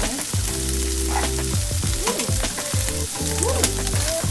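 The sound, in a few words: stirring elbow macaroni in a pot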